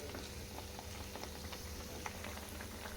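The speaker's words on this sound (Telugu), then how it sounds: "వడల్ని చక్కగా వేగినాయి, తీసేసుకుందాం." Corn vadas deep-fry in very hot oil, a continuous soft bubbling and hiss heard close up and fairly quiet throughout, with no talk over it.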